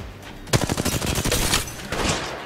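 Rapid bursts of gunfire from a shotgun in the mobile battle royale game Apex Legends Mobile, loud close shots in quick succession with a dense spray of impacts that continues through most of the moment.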